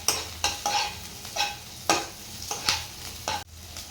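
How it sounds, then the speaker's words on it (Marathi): Onion and slit green chillies sautéing in oil for a prawn curry, a soft sizzle broken by repeated scraping strokes of a spoon stirring in the pan, close and rhythmic. "कांदा थोडासा परतून झाला की इथे 2 मिरच्या घालणार आहेत, त्या अशा आतून चिरून घेतलेल्या आहेत आणि ते सुद्धा तेलामध्ये छान परतून घ्यायचं"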